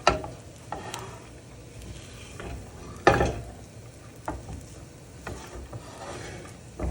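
Breakfast rice is stirred as it dries out in a hot pan, giving a soft sizzle with intermittent scraping and clanking of the utensil against the pan, including one sharp knock near the middle.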